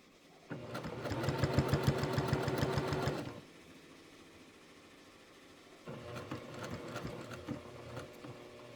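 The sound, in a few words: sewing machine stitching a quilt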